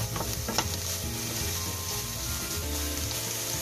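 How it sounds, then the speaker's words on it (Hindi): Mixed vegetables with red capsicum sautéing in a pan for a burger pizza, kept crunchy: a steady close sizzle with stirring scrapes throughout, no talking. "सबको अच्छे से एक बार मिक्स कर लेते हैं, सौते कर लेंगे।"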